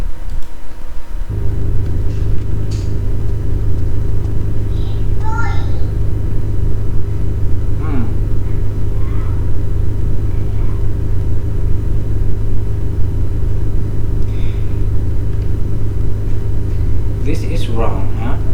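A car drives in a video game, giving a steady, loud, low engine rumble throughout while someone talks over it.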